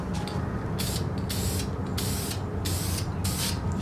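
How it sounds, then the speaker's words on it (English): Spray paint hisses in short repeated bursts onto a car wheel being refinished to repair curb rash, five or six sharp hissing blasts close to the microphone with brief pauses and faint mechanical clicks between them. "make sure we're getting a nice even spray."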